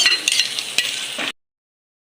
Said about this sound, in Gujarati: ઓકે ટમેટાની ગ્રેવી એડ કરી દઈએ.